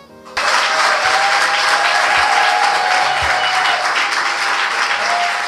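A room full of people at a civil wedding ceremony bursts into loud, sustained applause, dense clapping that holds steady for several seconds without fading.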